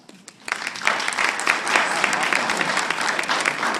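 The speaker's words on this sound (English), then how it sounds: "So give yourselves a big round of applause." Audience applause at a live magic show for a crowd, a dense wash of clapping that swells up after a brief quiet start and holds steady and loud to the end.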